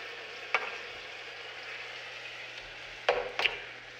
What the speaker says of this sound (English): We're going to let that cook down for 5 minutes or so. Give it a good stir.